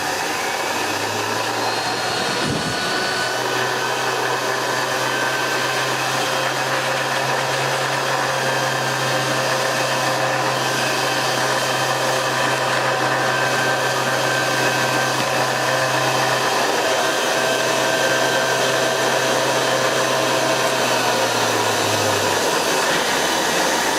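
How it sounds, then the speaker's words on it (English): A refurbished Hoover Model 725 vacuum cleaner runs as a blower, its loud steady motor whine starting abruptly, holding for about twenty seconds, then winding down, with no talk over it. "that's an incredibly powerful blower. Incredibly powerful indeed."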